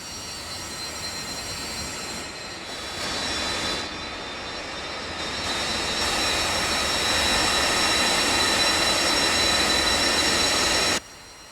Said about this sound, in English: the right engine is now fully running, both aircraft engines are now ready to taxi